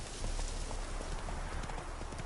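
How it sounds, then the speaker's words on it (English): Horse hooves clip-clop steadily in The Witcher 3 video game, a quiet, even rhythm of repeated hoof strikes over a faint background bed. "horse gets stuck on about everything"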